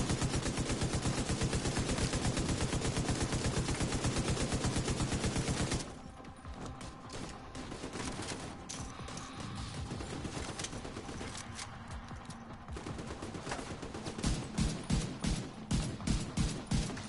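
Rapid, sustained gunfire from the video game Division 2, dense steady bursts for several seconds, then quieter scattered shots and ambience before heavy firing picks up again near the end.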